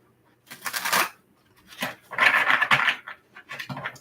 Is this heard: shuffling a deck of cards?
yes